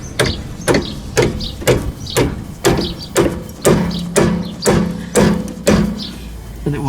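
A tapered punch is hammered in to line up the holes while a BC Racing coilover is fitted to a 9N3 Polo GTI. Roughly a dozen sharp metallic strikes land at a steady pace, close and loud, with no talk.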